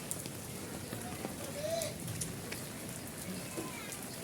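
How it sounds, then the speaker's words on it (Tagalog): Steady heavy rain from a typhoon hisses on a surface throughout, a dense wash of drops with faint voices murmuring underneath. "Grabe yung ulan, no?"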